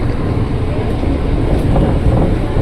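A commuter train rumbles loudly and steadily on its approach into Manggarai station in Jakarta, a dense low roar of wheels and carriage noise with no break, heard from inside the train.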